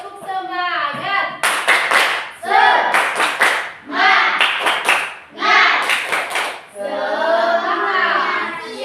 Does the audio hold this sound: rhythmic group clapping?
yes